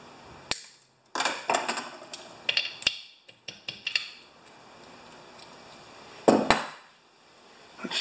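A plastic bushing on a Craftsman 6.5 HP Tecumseh engine is tapped down with sharp, close, irregular knocks, some in quick clusters and others isolated, separated by quiet gaps.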